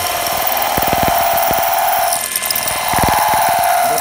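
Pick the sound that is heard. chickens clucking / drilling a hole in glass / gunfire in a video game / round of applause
drilling a hole in glass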